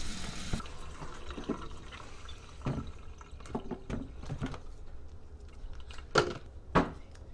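Tap water runs over mushrooms being rinsed by hand in a kitchen sink while cooking a vegetarian meal: a steady close hiss of flowing water broken by irregular splashes and drips, with two sharper splashes near the end and no talking.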